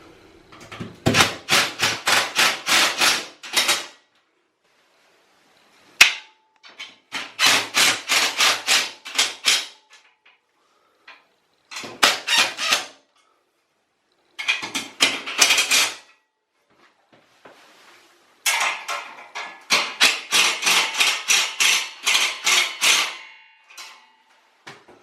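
Shower screen fixings are tightened one at a time with a screwdriver, producing bursts of rapid ratcheting clicks and grinding turns, five separate close runs with silent gaps between them and no talk.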